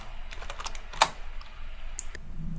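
Quick, light keystrokes clatter on a computer keyboard in an uneven run, with one sharper, louder key tap partway through, close-up and quiet with no voice.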